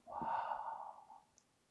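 A slow exhalation during a eurythmy breathing exercise, one long soft breath out that fades gradually, close and quiet with no talk.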